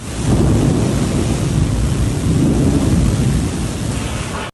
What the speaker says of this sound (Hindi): वफाकी दारुल हुकूमत में मानसून की पहली जोरदार बारिश और तेज आंधी ने मामूलाती जिंदगी मुतासर कर दिए।